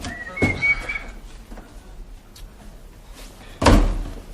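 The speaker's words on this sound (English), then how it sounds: "The front door!" A front door in a British sitcom home bangs shut with a sharp thud early on, then a second, louder slam follows a few seconds later, with a faint whistle and room noise in between.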